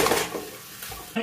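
Pork is tossed with ginger sauce in a frying pan, making a short soft sizzle with scraping and clinking of utensil against the pan, then a brief knock at the end.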